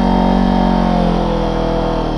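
A Morbidelli T502X motorcycle engine idles close by, a loud, steady drone that holds even throughout with no revving or breaks.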